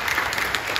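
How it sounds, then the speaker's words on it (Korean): A church congregation at a Saturday dawn prayer service in Incheon applauds, a brief, steady wash of many hands clapping at moderate distance. "박수로 격려해 주시죠."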